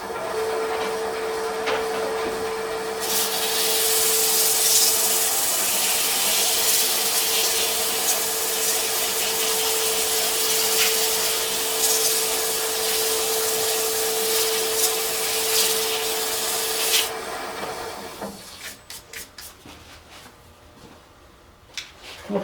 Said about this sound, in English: I will just do a little bit of sanding here